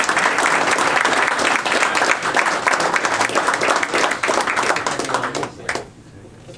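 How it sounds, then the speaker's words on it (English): Audience applause at a high school hot stove banquet, dense steady clapping from a crowd that fades out near the end, with some voices mixed in. "let's give him a round of applause."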